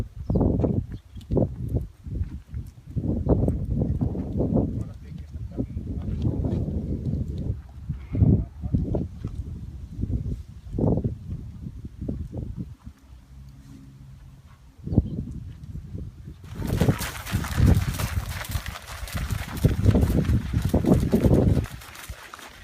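Mares and foals being moved between catch pens and stalls during weaning, with clip-clopping hooves on hard ground in irregular bursts, some near and loud, plus shuffling and a brief scrape later on.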